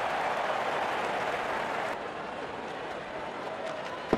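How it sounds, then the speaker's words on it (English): Crowd cheering at an IPL cricket match between Punjab Kings and Mumbai Indians, a steady wash of distant stadium roar and noise that dips slightly halfway through and ends on a sharp thump. "cheered by a good crowd in."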